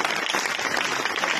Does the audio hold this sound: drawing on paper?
no